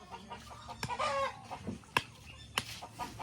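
A chicken clucks nearby in a few short, spaced bursts, with sharp clicks and light handling noise around it and faint background voices.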